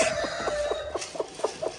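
A brooding hen set on 19 eggs clucks close by in a quick, even series of about seven short clucks over a low background hum.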